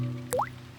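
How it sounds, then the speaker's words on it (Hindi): A single drop of water falls into a bucket beneath a leak in a cartoon scene, giving one short, rising plink against quiet background tones. "डैडी पिग बूंदें इकट्ठा करने के लिए बाल्टी का इस्तेमाल कर रहे हैं"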